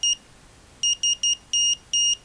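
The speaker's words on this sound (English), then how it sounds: "Press that, and it will beep 3 times." A Raspberry Pi buzzer beeps out SOS in Morse code: one short beep, then after a pause three short beeps followed by two longer ones, shrill, clean and alone over faint background hiss.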